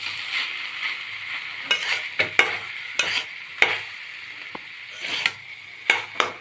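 Potato samosa filling with turmeric and black pepper being stirred in a pan: a string of close, uneven scraping strokes over a soft, continuous sizzle, with no voices.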